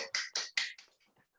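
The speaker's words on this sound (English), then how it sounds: "I'm going to clap a little bit for Joe." A single person claps a few times at the end of a technical talk, four close, crisp claps followed by quieter fading taps.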